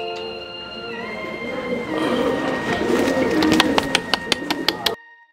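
Racing pigeon cooing in a loft, soft low warbling calls under steady background hum, building toward a series of sharp regular clicks or taps before cutting off abruptly.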